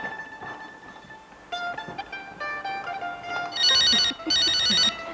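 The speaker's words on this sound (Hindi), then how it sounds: "3 बजे वाली पार्टी का फोन आ गया है।" A telephone rings at home with a repeated electronic trill, growing louder and brighter toward the end in two strong bursts, with faint background sounds and no talking.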